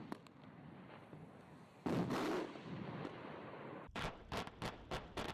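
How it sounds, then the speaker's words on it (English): Daytime fireworks burst with sharp bangs and a rumbling boom, then come a rapid series of close cracking pops, heard from a played video. "this is what daytime fireworks look like."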